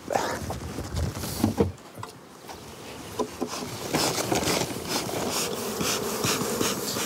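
A dense swarm of some 600,000 honeybees drones steadily at their hives while foraging rapeseed, clover and dandelion nearby, a continuous close buzzing with occasional knocks and rustles of hive handling.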